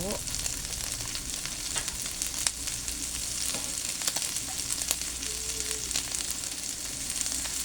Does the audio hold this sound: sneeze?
no